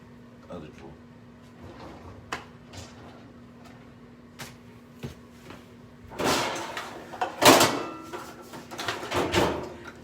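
Kitchen drawer pulled open and pushed shut with clustered wooden and cutlery rattles and knocks, close by, during meal preparation of pigs in blankets, baked beans and waffle fries, with a person talking intermittently over a low steady hum.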